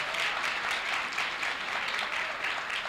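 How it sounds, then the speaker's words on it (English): An audience claps together in a steady, dense round of applause that holds evenly throughout, heard at moderate distance with no voices over it. "Let's give her a round of applause."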